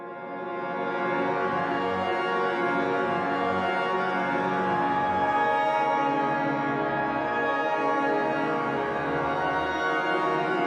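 A noisy synth waveform that has been stretched, multiplied and reversed drones continuously and dense, swelling in at the start and holding steady for about ten seconds with no voices.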